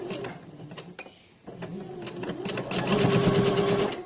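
A sewing machine runs a straight seam on a fabric face mask, its rapid mechanical stitching rattle starting, pausing briefly, then resuming steadier and louder up close.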